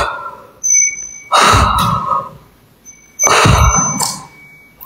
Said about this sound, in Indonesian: Gua kayak denger suara lonceng tadi daerah sini